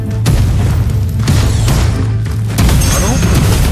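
Gunshots in a video game ring out as loud, dense booming bursts in quick succession with heavy low rumble, close and dominant, with voices partly mixed in.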